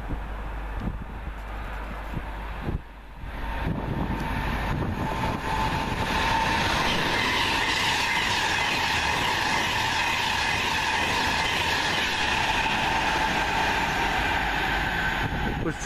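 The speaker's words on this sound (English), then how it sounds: "It's the Voyager to Chester." A Voyager passenger train bound for Chester passes Wolverton station, a steady loud rumble of wheels and engine with rushing wind noise that holds throughout without a break.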